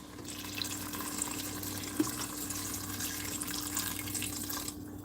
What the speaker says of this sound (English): So now we can pour the water in.